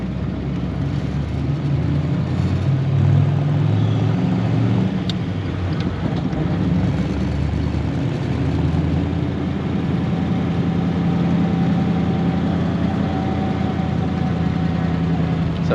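A 1938 Ford Deluxe sedan with its flathead V8 droning steadily in second gear. The low engine rumble and road noise stay loud from inside the car.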